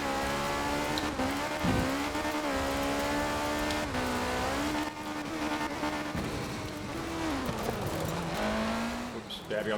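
A Ford RS200 rally car in a racing video game revs hard through gears, its engine note rising and dipping as it brakes and turns in, with a voice talking over the steady loud motor.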